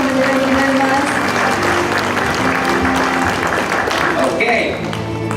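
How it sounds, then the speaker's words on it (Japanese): A large audience at the World Photographic Cup 2017 award ceremony applauds Team USA for second place, with dense, steady clapping throughout that eases slightly at the very end. "アメリカチームに拍手をお願いいたします。"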